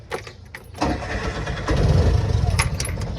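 An auto rickshaw engine cranks and catches, then settles into a loud, rough, sputtering idle close by.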